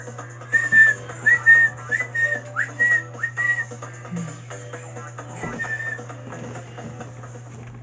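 A person whistles a short, simple chirping melody in imitation of Small Norm's voice from Crash Team Racing, a run of quick rising notes over a steady low hum, fading into softer background sounds.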